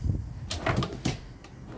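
A kitchen drawer in a custom 2015 Shamrock 23SS hybrid RV slides and bumps shut, a few close soft knocks and rattles over about two seconds.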